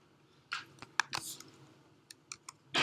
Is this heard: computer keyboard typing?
yes